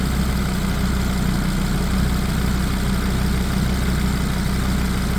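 An Audi RS3 DAZA engine runs at a steady idle, a dense continuous low rumble with a fine rapid pulse, loud and close throughout, with no voices.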